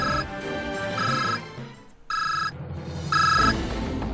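Telephone ringing in the Code Geass video game, three bright electronic ring bursts separated by short gaps, loud and clear with no talk over them.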